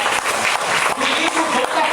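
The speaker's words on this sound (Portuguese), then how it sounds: "Um forte aplauso ao nome do Senhor Jesus." A church congregation at an evening service applauds in a steady, dense wash of clapping that mixes with voices throughout.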